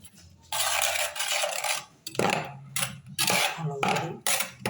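Chili powder being stirred into a sliced mango pickle with a spoon: bursts of metallic scraping and clinking against the container, several separate strokes with short pauses.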